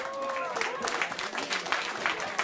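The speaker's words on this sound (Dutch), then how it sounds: "Dames en heren, nog een applaus voor Siebrand." A live audience at a Dutch stage show gives a winner a short round of applause, brisk clapping heard close up under a speaking voice.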